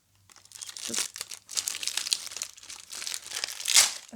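Plastic packaging around a car key keychain is unwrapped by hand, giving close, irregular crinkling and rustling in several bursts with short pauses, loudest near the end.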